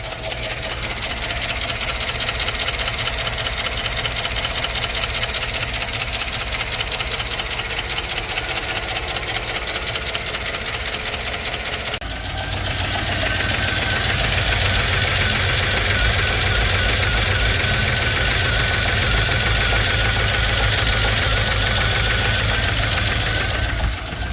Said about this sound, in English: A tiny little tick, but this is like the first 10 seconds of it warming up.